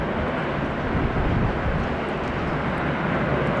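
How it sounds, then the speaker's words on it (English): A Qantas airliner, flight 146 from Auckland, arriving at Sydney Airport, a steady broadband engine roar held at constant loudness throughout, fairly close and heard alone. "here she comes, the Auckland arrival. Qantas 146"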